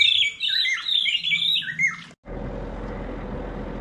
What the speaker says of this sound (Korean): 새소리가 들리고요.